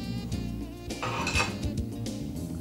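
Fried pancetta tipped into a mixing bowl of egg-and-flour dough for olive and pancetta cookies, heard as close clinks and scrapes of utensils against the bowl over a steady background bed.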